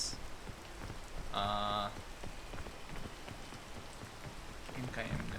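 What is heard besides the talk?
rain falling in a video game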